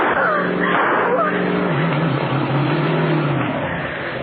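Car engine driving fast across lawns and fields in a radio drama, a loud steady motor roar with rising and falling pitch throughout, overlaid with tire and road rumble and busy background noise.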